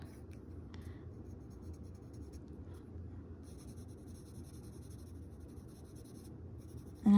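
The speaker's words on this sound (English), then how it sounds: "I'm just doing a light pencil mark over them so I know that they're dark." A pencil sketches light marks on paper, a soft continuous scratching close by that runs steadily for several seconds, quiet, with no one speaking.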